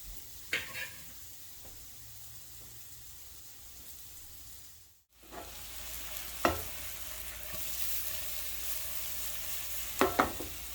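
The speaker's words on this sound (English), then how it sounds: "pass your potato over in your pot like that. Or you can use a spatula to turn it as well." Sweet potatoes fry with a steady sizzle in a pot, and a spatula turns them with a few sharp scraping clacks. A brief gap breaks the frying midway.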